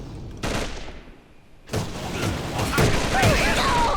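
Gunfire in the shooter game AVA: a short burst, a pause, then sustained rapid shots with clattering battle noise and faint voices underneath.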